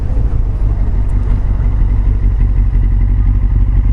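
A motorcycle engine runs steadily and close by, its low rumble holding even throughout, with no talk over it.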